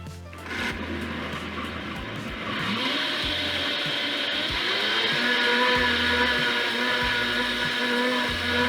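A blender roars continuously, its motor whine climbing and steadying as it churns thick vegetable soup, loud and close with no talking.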